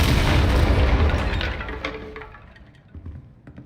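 A Descendo spell strikes in Hogwarts Legacy, landing as a loud, deep boom that rolls off and fades over a few seconds, with a few faint thuds trailing after.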